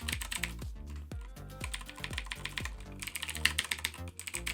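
Fast, continuous typing on a mechanical keyboard with Razer Green switches, sharp clicky keystrokes in quick irregular bursts, close and loud with no talking.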